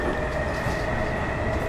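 A train runs in the Minecraft Transit Railway game: a steady, loud mechanical rumble with a sustained tonal hum layered over it, continuous throughout with no voices.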